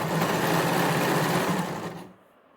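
A sewing machine stitches a folded-in hem on a shirt (kameez) in a steady, loud, close-up whir that runs without a break for about two seconds, then stops abruptly.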